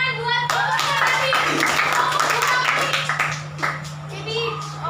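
A classroom of children claps for a group that just presented, brisk close-up hand claps with children's voices chattering over them and a steady low hum underneath.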